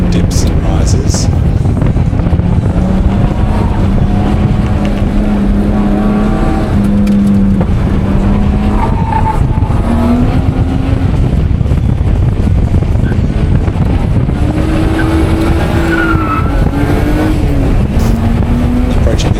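A Nissan Skyline on a hillclimb practice run, its engine loud and continuous for the whole stretch, pitch rising and falling with throttle through dips and corners, with wind buffeting the microphone throughout.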